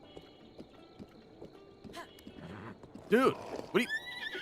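A horse in the video game Zelda: Breath of the Wild lets out two loud whinnies close together near the end, after light hoof clops, with someone talking over it.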